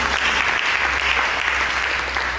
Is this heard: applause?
yes